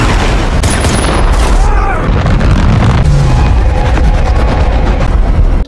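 A rocket air strike in a war film explodes in heavy booming blasts with crackling debris, a loud dense rumble that continues under a narrating voice.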